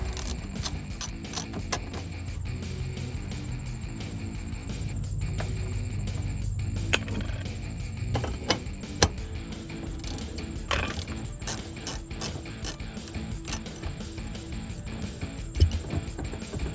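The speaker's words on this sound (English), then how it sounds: "we're going to remove the mount from the studs using our 10 millimeter socket" A ratchet with a 10 mm socket removes the mount nuts from studs under the seat of a 2019-2022 Silverado 1500, producing steady close-up pawl clicking with sharper metallic ticks scattered throughout.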